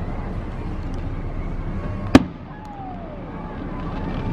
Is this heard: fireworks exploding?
yes